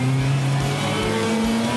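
Lancia 037 rally car engine roaring loud and close, a continuous deep drone with steady harmonic tone across the whole stretch.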